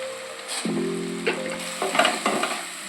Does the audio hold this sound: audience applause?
no